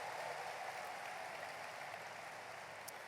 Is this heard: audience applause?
yes